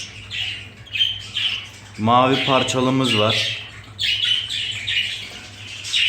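Harsh squawks and chirps from several cage birds, mostly high-pitched, with a voice speaking over them for a couple of seconds.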